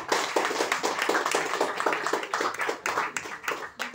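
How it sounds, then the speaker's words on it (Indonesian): Clapping at a company meeting, a fairly small group giving quick, uneven hand claps in a busy burst, close and lively, lasting about four seconds. "tolong bagi tepukan ini paling gemuruh sekali"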